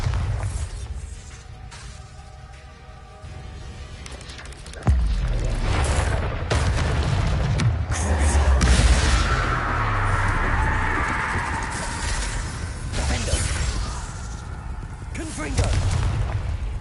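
Bombarda blasting-spell explosions in the video game Hogwarts Legacy, heavy booms and crackling bursts landing over several seconds, loud and close, with shouted voices and game noise mixed in.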